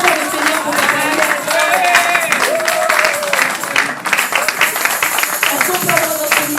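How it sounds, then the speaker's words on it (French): A church congregation at a Sunday worship service applauds steadily and loudly, with some cheering voices mixed into the clapping. "On acclame bien fort le Seigneur pour la parole."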